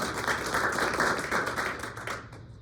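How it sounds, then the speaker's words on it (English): Applause from members at a club installation meeting, a brisk burst of clapping that holds briefly and then tapers off. "Round of applause"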